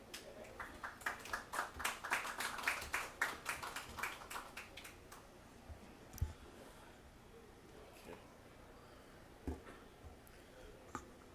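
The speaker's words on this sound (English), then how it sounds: "Please welcome him with a big round of applause." A conference audience claps to welcome a session moderator, a burst of scattered hand claps for about five seconds that fades to a few isolated claps and taps in a quiet room.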